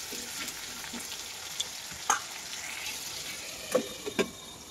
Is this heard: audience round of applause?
no